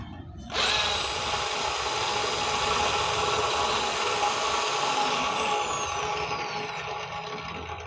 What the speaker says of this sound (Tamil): ட்ரில்லிங் மிஷினை ரிவர்ஸில் சுற்ற விட்றேன்.